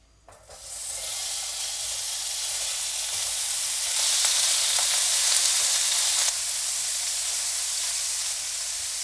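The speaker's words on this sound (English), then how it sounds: "Once it's heated, we'll start cooking the pork belly." Pork belly sizzling in a hot, dry pan with no oil, a steady close hiss that swells louder midway and then settles back to a constant fry.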